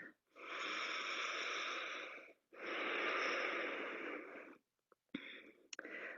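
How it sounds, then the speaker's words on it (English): Two long, loud exhalations through the nose or mouth during a beginner hatha yoga class, each lasting about two seconds, from someone lying face down in a prone pose, followed by a few short sniffs and breaths. "Breathe."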